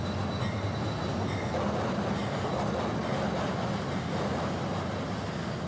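Amtrak 97, the southbound Silver Meteor passenger train, passes close with a loud continuous rumble of rail cars and wheel noise and faint clickety-clack, unbroken across the whole stretch.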